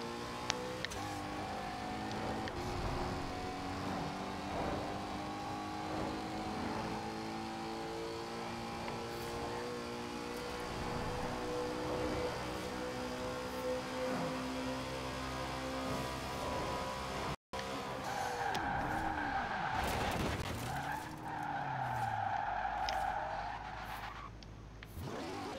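Koenigsegg Agera RS engine in Forza Horizon 4 roaring steadily at high speed, a loud sustained drone with layered harmonics that climbs and falls, broken near the end by a brief gap and a sharp upshift or gear change sweep.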